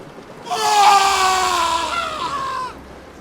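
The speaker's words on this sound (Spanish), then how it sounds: "Los mismos gritos espeluznantes que había escuchado meses antes desde esa habitación cerrada" Eerie, drawn-out screaming with wavering, sliding pitch, loud and close, rising quickly and holding for about two seconds before cutting off.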